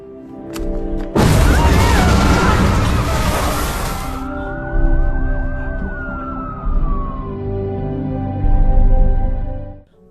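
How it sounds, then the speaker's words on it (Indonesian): A grenade explosion in a film bursts in as a loud, sudden blast with a long roaring tail, followed by a sustained rising and falling whine and layered soundtrack tones that fade away. "Kim terpaksa mengorbankan diri dan meledakkan sisa granat bersama Ray."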